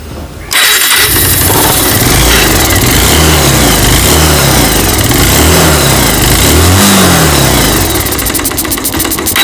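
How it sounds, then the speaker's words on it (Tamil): Bajaj Pulsar 150 motorcycle engine with a faulty piston, starting abruptly and then running loud and close with a rough, uneven idle and slow swells in pitch. "பிஸ்டன் சவுண்டு பார்த்தீங்கன்னா உங்களுக்கு நான் மைக்கை கிட்ட வச்சு காமிச்சிருந்தேன்"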